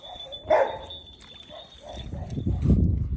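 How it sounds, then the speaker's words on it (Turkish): A dog makes a short bark and some soft whimpering noises, close by, with faint background rustle. "yakışıklı bir köpek"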